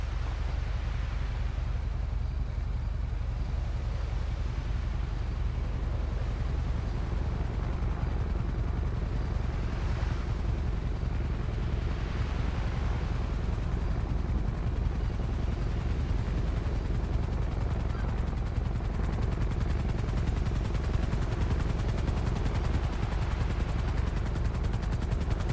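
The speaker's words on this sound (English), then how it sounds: "I'm landing. Stay clear of the blades." A video-game helicopter arrives and sets down, its loud, steady rotor and engine roar filling the scene without a break from start to finish.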